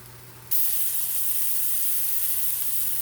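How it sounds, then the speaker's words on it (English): A fish and veggie quesadilla cooking on a hot skillet sets up a steady, close hissing sizzle that starts abruptly and holds evenly over a faint low hum. "It's baking up very, very nice on the skillet."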